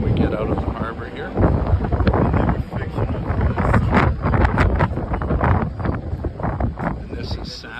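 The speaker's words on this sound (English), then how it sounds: "It's a very windy day." Strong wind, forecast near 45 knots, buffets the microphone aboard a catamaran leaving Cape Town harbor, a loud continuous roar with gusty surges, water and boat noise beneath and voices mixed in.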